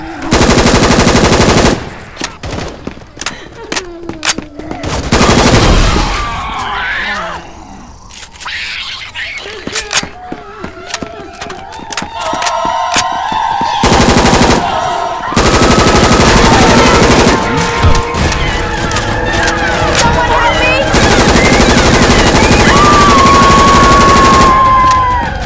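HK416 rifle fire in the Left 4 Dead 2 video game, loud automatic bursts recurring across the clip with gaps between them, alongside game effects and brief voices.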